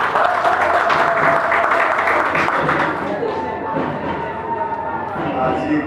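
Wedding guests at a civil registry ceremony applaud loudly with a dense, sustained patter of clapping. Crowd murmur and a voice run under it, and the applause thins slightly partway through before building again.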